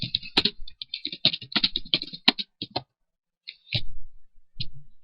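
Rapid bursts of computer keyboard typing, crisp close key clicks in quick clusters separated by short pauses, ending with a few isolated keystrokes.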